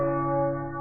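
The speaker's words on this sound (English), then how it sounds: "The bell tolls for America." A deep church bell tolls in an advertisement, one sustained, loud, resonant ring holding steady through the short moment, with no voices over it.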